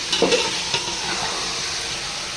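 Mint paste with finely chopped mint being stirred in a hot pan, a close, steady sizzle with a few brief scraping stirs at the start.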